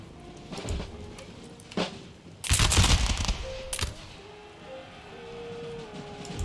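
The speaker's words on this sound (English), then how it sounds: "Fire on the enemy. Ah, glorious volley." A musket volley in Empire: Total War, a loud crackling burst of massed gunfire near the middle, with scattered single shots before and after and a low rumble of battle.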